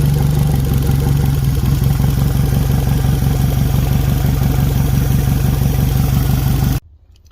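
A Yamaha four-stroke outboard motor runs roughly with a steady, rapid clattering idle, then abruptly cuts out and stalls near the end, leaving near silence.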